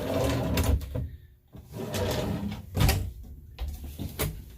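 Cutlery drawers in a camper trailer kitchen slide open and shut several times, with distinct bumps and rolling slides at close range, no talk.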